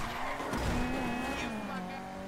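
In Grand Theft Auto 5, a car slides across the road with tires squealing in a sustained wavering whine over the engine's drone, fairly close and steady for a couple of seconds.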